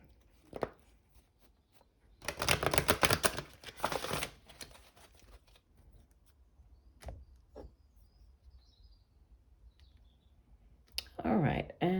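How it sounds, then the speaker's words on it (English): A tarot deck is shuffled with a loud burst of riffling card clicks in the middle, surrounded by scattered softer taps and handling noises and a brief voice near the end. "Okay, we'll do one last shuffle."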